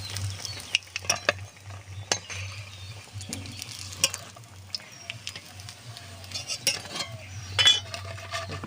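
Onion piyaji fritters fry in a pan of hot oil, a steady low sizzle running throughout, broken by scattered scrapes and clinks of a utensil lifting them out.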